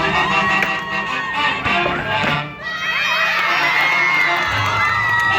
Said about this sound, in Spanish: El grito guerrero de los Chapis.